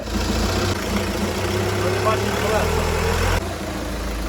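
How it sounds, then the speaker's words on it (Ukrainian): A Volkswagen Passat B6 engine runs at a steady idle while a cabin hum and suspected bearing noise are checked, a constant low rumble with some mechanical clatter, close by and fairly loud throughout. "Зараз заведемо двигун і подивимося, чи поміняється звук."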